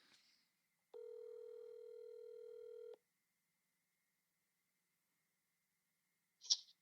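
Outgoing telephone call during a podcast recording, a single steady electronic ring tone lasting about two seconds, then silence, with a brief click or noise burst near the end.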